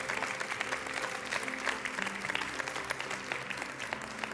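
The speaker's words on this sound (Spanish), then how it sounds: "¿Pueden dar otro fuerte aplauso a Cristo Jesús?" A congregation claps loudly for Christ Jesus during a church service, a dense, sustained round of applause close by with no talk over it.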